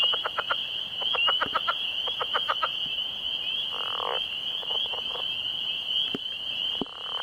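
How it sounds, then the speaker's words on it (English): Rapid clusters of pulsed leopard frog croaks, its chuck call, repeat in short bursts over a constant high-pitched insect-like drone, with longer chuckling rattles in between. "the leopard frog has a chuck and a chuckle that's put together"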